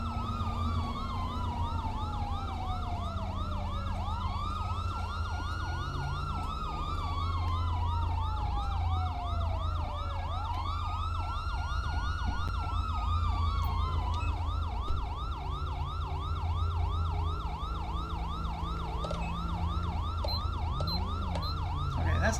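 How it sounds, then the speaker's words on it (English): A police car siren from another vehicle in the LSPDFR police mod for a driving video game wails continuously, rising and falling in long, steady sweeps under a low engine rumble, loud and unbroken throughout. "Okay, that's not my siren. That's that jackass's siren."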